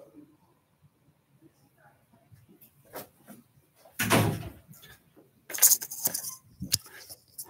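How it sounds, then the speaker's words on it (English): Door sounds at an office after hours: a sharp knock-like burst midway, then a second cluster of knocks and rattles, heard close over a quiet room with faint background murmur. "sorry, someone's coming to my door here."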